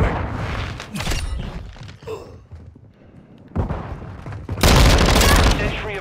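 A flashbang grenade goes off in Call of Duty: Modern Warfare II during a team deathmatch: sharp loud blasts and gunfire bursts, a quieter gap, then a sustained loud crash of noise, with voices heard in between.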